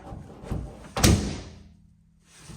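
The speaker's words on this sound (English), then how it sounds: "So you'll close the tailgate" The tailgate of a 2022 Ford Maverick fitted with a tonneau cover swings shut with a single solid slam, preceded by a brief creak and followed by a fading rattle.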